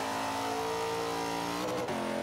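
Chevrolet Camaro C-class race car in Forza 5 accelerating hard, its engine note climbing steadily in pitch before a brief shift-like break near the end, loud and continuous.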